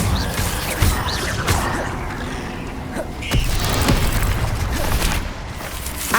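An Incendio fire spell erupts in the Hogwarts Legacy video game with several booming bursts and crackling sharp hits over a sustained, roaring fiery rumble, moderately loud and close.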